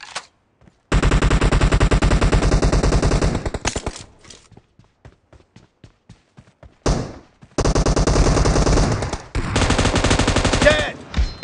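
Sustained bursts of M249 machine gun fire in a PUBG team deathmatch arena, loud and dense, with a pause of scattered single shots and clicks between long automatic volleys.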